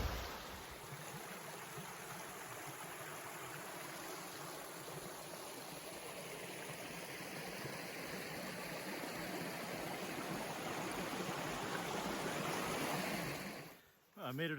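A waterfall and a rushing creek on a hike roar in a steady, broad wash. The sound holds continuously with no voices until a brief rustle near the end.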